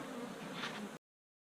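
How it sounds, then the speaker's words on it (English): Honey bees drone in a continuous, close buzzing around an opened hive during an inspection, steady and even for about a second before cutting off abruptly. "There's a good amount of bees in here."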